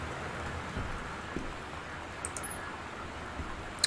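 Steady rain falls outside the house in the video game Gone Home, a soft even patter at moderate volume with a few faint clicks, and no voices.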